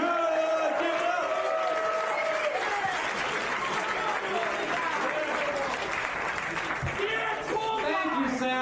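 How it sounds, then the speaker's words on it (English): A live crowd at a comedy contest on a talk-radio show gives a comedian sustained applause mixed with cheers and whoops, a dense roar that holds steady throughout. "Let's hear it now for your next contestant, ladies and gentlemen, Mr. Jason Good."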